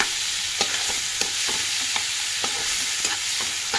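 Potato and pointed gourd curry sautéing in a pan, a steady close sizzle with light repeated scraping of a spoon stirring every half second or so, no voices.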